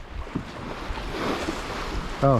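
A steady Maestral wind rushes over a sailboat at sea, buffeting the microphone with a broad, noisy roar. A brief tonal sound shows up near the end.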